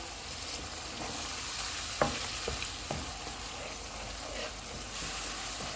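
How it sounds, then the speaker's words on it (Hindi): Steady sizzle of spices and green chillies frying in a hot pan for chole, with a few brief clicks and scrapes of stirring partway through. "इनको 3 से 4 मिनट तक भूनेंगे।"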